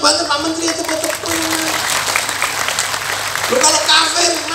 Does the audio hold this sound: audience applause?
yes